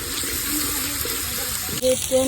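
Water is poured into a wok of fish curry with onion-garlic paste, turmeric, chili powder and salt, a steady close splash and trickle lasting about two seconds, ending with a couple of brief clinks.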